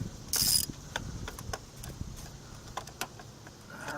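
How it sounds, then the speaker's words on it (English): A ratchet turning a spark plug loose on a 2009 Jeep Patriot engine, heard as a few separate mechanical clicks and clacks close by, with one brief burst of bright metallic noise early on. "Take your ratchet, put it down until it snaps on the spark plug, and then lefty loosey."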